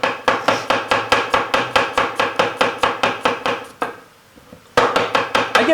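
Fresh onions chopped on a board with a knife: steady, rapid rhythmic chops close up, about four per second, pausing briefly before resuming at the same pace.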